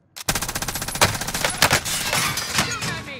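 Rapid automatic bursts from an MG82 machine gun in Call of Duty: Warzone on Rebirth Island, loud and close, a fast rattling stream of shots lasting about three seconds after a brief silence.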